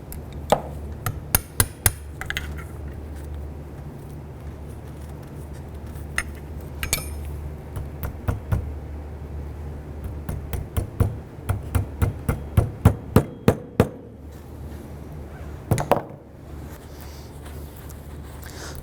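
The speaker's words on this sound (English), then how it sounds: "Now I want to go over and tap these ears over." A hammer taps the ears of a CV boot clamp over on a 2002-2007 Jeep Liberty, giving scattered sharp metallic taps that bunch into quick rapid runs in the middle and again near the end.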